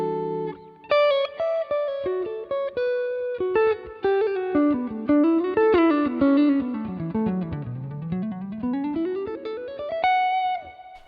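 Clean, warm electric guitar through a Line 6 Helix jazz preset playing a melodic jazz line with soft reverb tails, single notes and chords gliding up and down, no talking.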